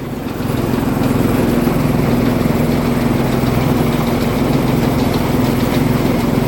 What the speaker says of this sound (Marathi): इथून भात येतोय आणि या मशीनमधून असे तांदूळ निघतात बघा.